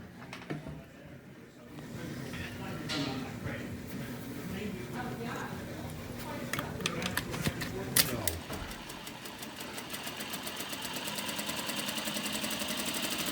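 Some handling clicks and knocks lead into a sewing machine starting up and running with a fast, even, mechanical stitching rhythm that continues steadily to the end.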